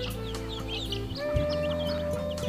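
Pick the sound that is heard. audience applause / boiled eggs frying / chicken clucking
chicken clucking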